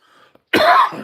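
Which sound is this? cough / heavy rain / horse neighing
cough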